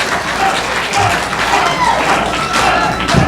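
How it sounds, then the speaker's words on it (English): Wrestler's dropkick hitting two opponents at once at an independent wrestling show, heard as a dull thud amid a loud, steady wash of crowd noise, applause and cheering in a small arena. "Drop kicks them both."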